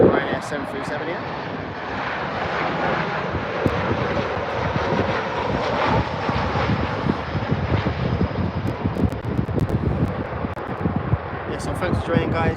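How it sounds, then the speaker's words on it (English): Ryanair Boeing 737 jet at Birmingham airport, a loud broad engine roar that holds steady throughout, with wind buffeting the microphone and a voice talking over it. "Ryanair 737 here."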